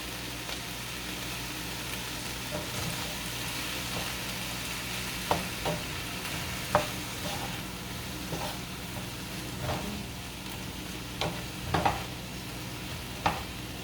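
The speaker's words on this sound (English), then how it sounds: "And then we mix this, and we're adding also a little bit of tomato sauce. It's half of it. Just we stir it together." A mix with tomato sauce being stirred in a pan: a soft, steady sizzle runs throughout, with occasional faint scrapes and clicks of the utensil against the pan.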